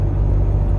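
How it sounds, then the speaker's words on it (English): A fully electric car of around 150 horsepower drives along, giving a steady, close low rumble of road and tyre noise with a faint whir and no talking. "As it is an electric car, obviously there's not as much noise"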